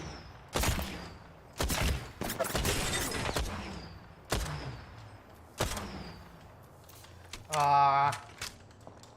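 Sharp, separate gunshots in the battle royale shooter Apex Legends, about five of them spaced irregularly over the clip, fairly loud, with a ringing, buzzing effect near the end and faint talk in between.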